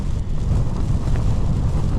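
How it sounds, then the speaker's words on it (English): Strong wind blows steadily across a bivvy camp at night, a continuous low rushing rumble buffeting the microphone with no voices. "The wind has just not dropped. It's not as bad as it was at one point, but it's still blowy"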